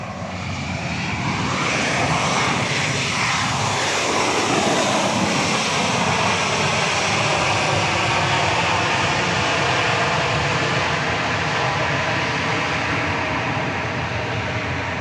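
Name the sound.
Southwest Boeing 737 MAX 8 jet arriving at Dallas Love Field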